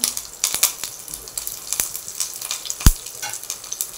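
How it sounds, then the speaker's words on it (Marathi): Green chillies and curry leaves sizzle and crackle in hot oil while a dhokla tempering is being made, giving a close, steady frying hiss broken by sharp pops and one loud spatter. "त्यामध्ये मिरची घालूया, कढीपत्ता"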